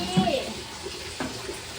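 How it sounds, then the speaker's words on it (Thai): Water running from a tap at a venue being set up for a mor lam show rehearsal, a steady splashing flow with a brief voice near the start. "แต่น้ำไหลดีอยู่นะ"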